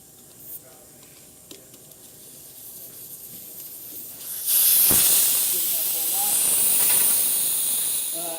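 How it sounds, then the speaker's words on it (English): Compressed air hisses loudly out of a tire valve on a Hunter AUTO34 tire changer, a sudden strong rush that starts partway through and holds steady until the end, with a faint workshop background before it. "Now this wheel has air, so we need to obviously let the air out."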